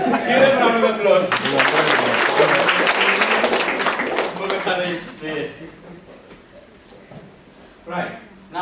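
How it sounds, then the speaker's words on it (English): Audience in a communication skills session applauding participants, a burst of clapping over the first few seconds that fades out, with talking and chuckles mixed in and a voice resuming afterward. "Give them a round of applause"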